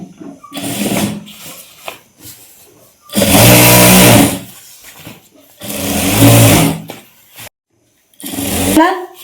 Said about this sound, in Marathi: त्यानंतर फोल्ड करण्यासाठी आधी एक अशी शिलाई मारायची.